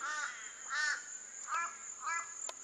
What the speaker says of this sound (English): Birds everywhere. A bird seeker's paradise, this is.